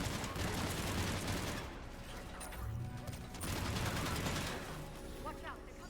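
Gunfire from snipers in the Mass Effect 3 video game, a dense run of sharp shots and mechanical clatter that eases briefly midway, then returns, with faint game sounds beneath.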